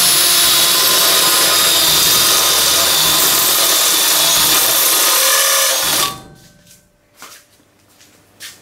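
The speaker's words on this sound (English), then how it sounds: "the easiest way to do that is with a step drill or a Christmas tree drill" Step drill boring 12mm holes for a Ninjamobil ZX10 carbon dart cooling system, a loud steady whining grind that runs for about six seconds and then stops abruptly, followed by a few faint clatters.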